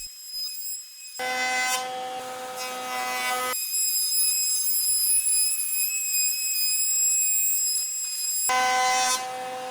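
Sanding a curved wooden cabinet part, with a harsh abrasive rasp that runs in long continuous stretches under a steady whining power tool drone, loud and close throughout.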